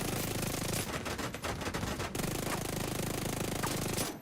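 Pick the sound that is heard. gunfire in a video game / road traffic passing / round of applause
gunfire in a video game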